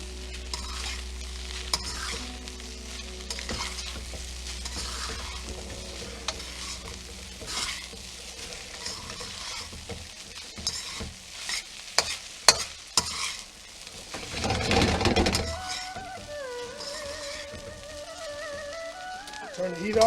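Chicken fried rice with sesame seeds is stirred and fried in a hot pan, giving a soft continuous sizzle broken by scraping and clattering utensil strokes, with a brief louder burst near the end and occasional talk.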